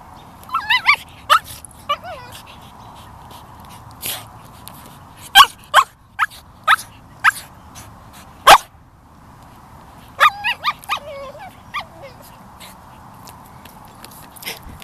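Two dogs give soft whimpering barks and little yips, a dozen short sharp bursts scattered across the stretch with quiet gaps between, close and fairly loud, with whiny vocal sounds in between.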